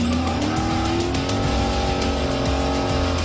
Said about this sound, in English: an even bigger supercharged engine turns Eleanor into a 750 horsepower rubber-burning bad girl